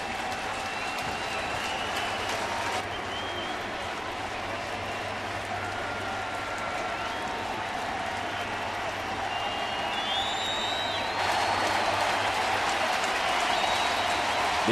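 A packed baseball stadium crowd of over 43,000, at a Chicago Cubs at St. Louis Cardinals game, cheers and applauds on its feet as a steady, dense roar that swells slightly near the end.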